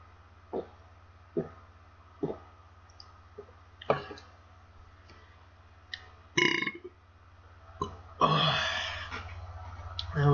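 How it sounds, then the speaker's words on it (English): A person burps while streaming Minecraft, with a few short throaty clicks and gulps, then a louder, drawn-out belch near the end, close to the mic, with no talk during it. "That was an interesting burp."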